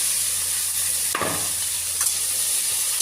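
Okra sizzles steadily in a frying pan, a soft continuous crackle broken by a couple of brief scraping stirs.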